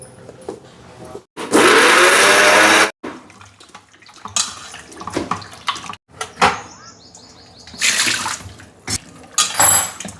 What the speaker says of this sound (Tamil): நல்லா கழுவி எடுத்துக்கோங்க.